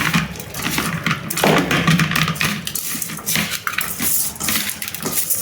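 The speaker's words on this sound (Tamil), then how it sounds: "நல்லா கையை வச்சு பெசருங்க." Raw chicken being mixed with salt, oil and spices by hand in a bowl, giving a steady wet squelching and slapping with light clinks of the bowl, close and continuous.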